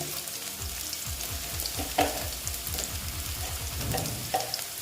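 Potatoes frying in hot oil, dusted with a little turmeric, sizzle steadily up close with repeated rhythmic scraping and stirring strokes and a few louder clinks, with no talk.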